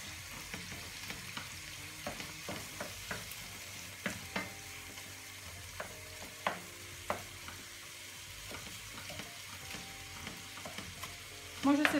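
Minced meat sautéing in a pan without added water, a low steady sizzle with frequent light scrapes and taps of stirring scattered throughout, fairly quiet and with no talk.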